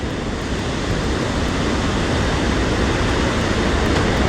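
A stormy sea pounds a pebble beach in Sochi amid wind and rain, a loud, continuous broadband roar of surf with wind buffeting the microphone, no voices.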